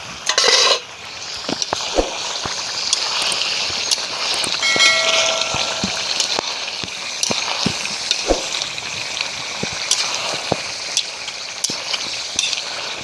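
Country chicken curry cooks in a pan with a steady broad sizzle, with intermittent scraping clicks as it is stirred, close and alone without talk.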